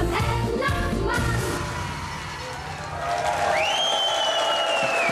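Festival audience applauding and cheering at the Saseler Heimatfest in Sasel, a dense wash of clapping that dips briefly mid-way, then swells again as a sustained tone enters.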